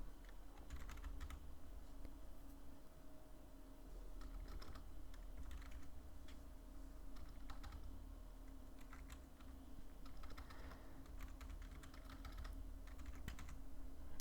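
Fingers clack on a computer keyboard in quiet, irregular bursts of keystrokes while someone builds a map, faint and close with short pauses between runs of typing.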